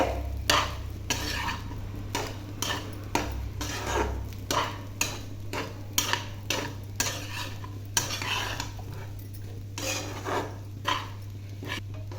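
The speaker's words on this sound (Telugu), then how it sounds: "ఇప్పుడు మొత్తం బాగా ప్రాపర్గా కలుపుకోవాలి" A spoon stirs cooked rice with salt in a pan for pachi karam rice, making rhythmic scraping strokes about twice a second, close and clear over a steady low hum.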